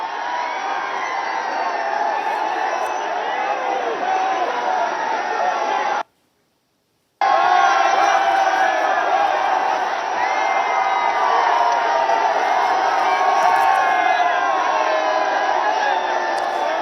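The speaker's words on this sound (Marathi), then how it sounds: "तरुणांकडून आता विजयी जल्लोष त्या ठिकाणी सुरू झालेला आहे। जोरदार घोषणाबाजी आपल्याला ऐकू येते।" Young student protesters at Jantar Mantar erupt in loud victory cheering and shouted slogans, a dense roaring crowd that runs continuously, cuts out for about a second, and then resumes just as loud.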